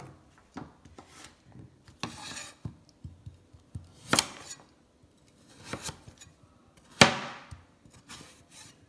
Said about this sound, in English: Pumpkin is quite soft to chop